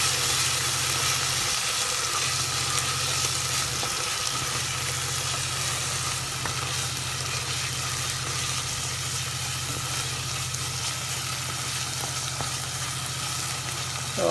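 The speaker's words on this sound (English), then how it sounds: "You can hear it sizzle." Onions caramelizing in a pan give off a constant, even sizzle over a low steady hum, with only faint stirring sounds and no voices.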